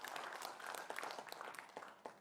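Audience applause at a regency election debate in Karawang, a dense, steady patter of many hands clapping throughout, fairly distant and even in level.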